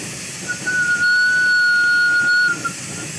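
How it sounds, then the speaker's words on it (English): Hot glass being worked into a lollipop snowman ornament gives off a thin, steady high-pitched whistle lasting a couple of seconds over a loud continuous torch hiss. "That is the glass whistling,"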